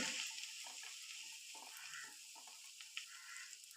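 Chili and turmeric powder frying and being stirred in a pan while cooking clam meat thoran, a soft continuous sizzle with light scraping, fairly faint and steady, with no talking.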